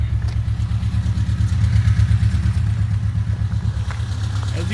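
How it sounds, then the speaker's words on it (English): A motor runs steadily at idle, a low rhythmic chugging with light mechanical clatter, close by and fairly loud throughout. "as you can hear, it idles fine."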